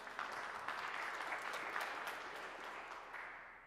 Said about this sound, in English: I appreciate you applauding the reading there of the word.